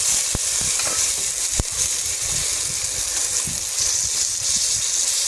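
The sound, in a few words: ash gourd slices frying in oil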